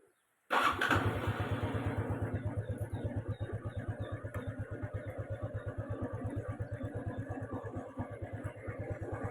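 A freshly assembled 110 motorcycle engine cranks and catches after a short silence, then settles into a steady, close, loud idle with an even rapid thumping rhythm that runs to the end.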